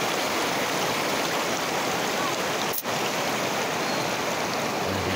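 Clear mountain water pours and rushes steadily outdoors, a loud, unbroken hiss of flowing water with a single brief dropout near the middle and no talking over it.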